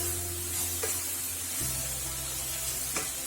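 Spiced vegetable paratha filling sizzles in a hot pan while being stirred, a close steady hiss with a hum underneath and a couple of soft scrapes.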